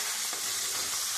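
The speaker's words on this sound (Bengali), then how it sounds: "এবার আমি লাল লাল করে মাথাগুলো সব ভেজে তুলে নেব" Fish heads fry in hot oil until reddened, giving a dense, even sizzle that stays close and constant throughout a short moment.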